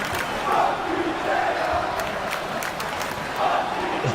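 Arena crowd in the WWE 2K wrestling video game, a steady roar with swelling cheers and shouts, heard under a commentator's talking.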